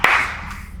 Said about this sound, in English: I'll do a clap.